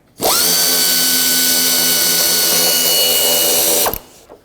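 A power tool spins out a 10mm bolt from the timing cover of a 2001–2007 Volvo V70, a loud, close, steady whine lasting about four seconds before stopping abruptly.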